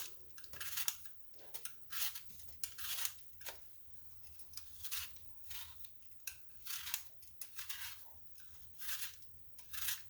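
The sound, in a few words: vegetable peeler peeling apples for apple crisp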